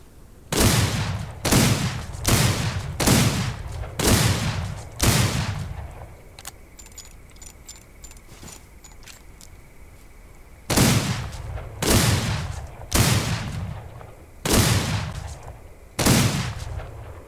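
Gunfire at a grizzly bear in the Wild West video game Outlaws of the Old West: loud, sharp single shots in two bursts of about five each, separated by a quieter pause with faint metallic reloading clicks.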